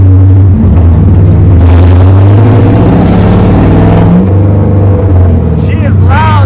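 Loud, open exhaust of a V8-powered Solstice go-kart running with no mufflers and an X-pipe, a steady low rumble cruising through a residential subdivision, with someone talking over it.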